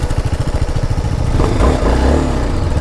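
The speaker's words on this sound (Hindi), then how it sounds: "आज फर्स्ट टाइम मैंने इतनी भगाई है ये बाइक" KTM 390 motorcycle engine revving hard under acceleration on the road, a loud, close, steady buzzing drone that pulses at first and then swells and thickens.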